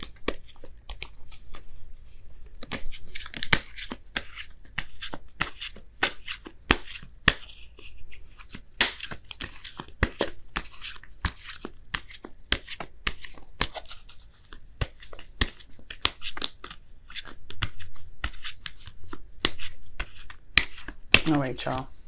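Tarot oracle cards are shuffled by hand in a long, rapid run of crisp riffling flicks and slaps, close and fairly loud, with brief pauses as cards are pulled.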